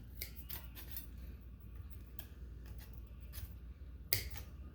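Repeated sharp snips of scissors or cutters working through a perforated speaker grill for a Williams Cocktail pinball cabinet, a steady series of close, crisp clips over a low background hum, ending with one louder snap.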